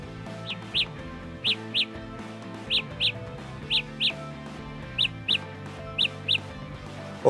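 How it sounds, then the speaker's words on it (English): Samsung Galaxy Buds Plus earbuds play their Find My Earbuds locating alert: repeated paired electronic chirps in a steady rhythm, about eight pairs, loud and clear over a low background hum. "you can use the Find My Earbuds option to play a chirping sound on them"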